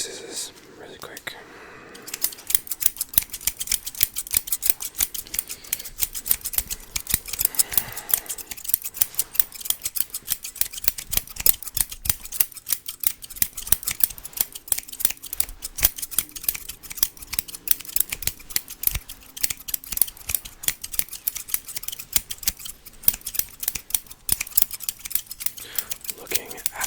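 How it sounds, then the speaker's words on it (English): Barber scissors snip rapidly and crisply in an ASMR haircut roleplay, a dense run of close, sharp clicks lasting throughout, with soft whispering underneath at times. "Then we switch scissors really quick."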